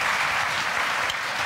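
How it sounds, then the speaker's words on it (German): Studio audience applauds after a tasting on a German cooking show, a dense burst of steady clapping from many hands, loud and close, filling the whole moment without talk. "Sie dürfen jetzt klatschen."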